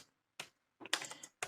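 Keys clack on a computer keyboard in a few quick, close bursts, separated by short silent pauses.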